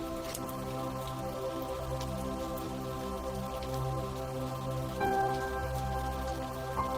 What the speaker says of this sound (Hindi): जब थोड़ा सा उचक कर देखा तो पता चला ये तो बेमौसम बरसात का आलम था।